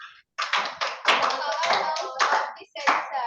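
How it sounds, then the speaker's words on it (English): Classroom of students giving a round of applause for a classmate, dense clapping in bursts with short gaps, speech-like voices mixed in. "Clap for her, everyone"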